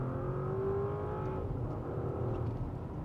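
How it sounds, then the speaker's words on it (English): Porsche Cayenne S V8 accelerating hard in manual second gear with the throttle floored, a steady, muffled engine drone rising in pitch, heard from inside the cabin. "you can hear it, and you are aware that it is a V8"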